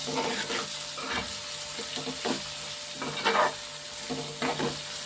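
Onions fry in a pan with a steady close sizzle, punctuated every second or so by soft scraping stirs of a spatula, moderately loud and without any talking.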